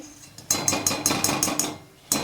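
Crunchy fried gram-flour fritters are handled, giving a quick run of about nine sharp, bright crackling clicks close up in an even rhythm, with no one speaking.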